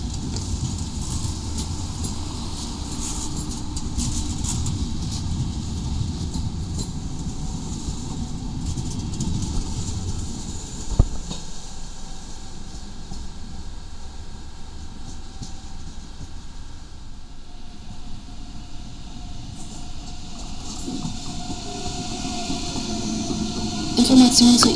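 An ICE high-speed train pulls into a platform at Dortmund Hauptbahnhof at night, a steady rumble of wheels and engine noise filling the station and fading slightly partway through, with a brief clank near the middle.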